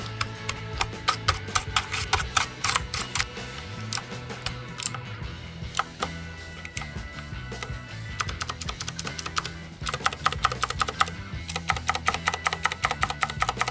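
Rapid clacking on a custom-built mechanical keyboard, keys pressed in quick bursts and steady runs, crisp and close, with brief pauses between flurries.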